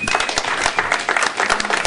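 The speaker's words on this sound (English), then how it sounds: "I want to give you guys a round of applause for what you do" A mixer crowd gives steady, close applause, with dense clapping filling the whole short stretch.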